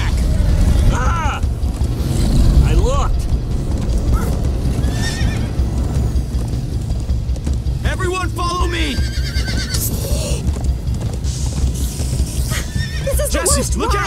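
Horse neighs and whinnies with clip-clop hooves in the video game Minecraft: Story Mode, several loud calls spread over a steady galloping ride while characters talk throughout.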